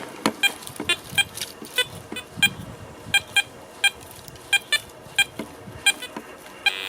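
A Garrett Ace metal detector emits a regular series of short electronic pulse beeps, about two per second, over faint outdoor field background with no talk.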